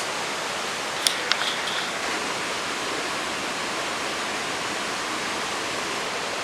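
A mountain waterfall in a foggy forest makes a steady, even rushing roar that holds constant throughout, with a few faint high ticks near the start and no voices.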